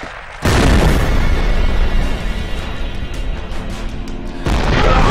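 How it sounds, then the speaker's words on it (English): Grenade explosions in a shooter video game: a sudden loud blast that rolls into a sustained roaring rumble, then a second burst near the end, close and dominant. "Grenades coming at me!"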